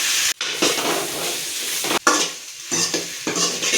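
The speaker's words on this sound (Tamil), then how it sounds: "4 கிலோ வெண்டைக்காங்க இது நல்லா எண்ணெயிலே வதங்கணும்." Okra sautés in oil in a large pan, about four kilos of it, with a steady close sizzle broken by scraping stirs and brief pauses.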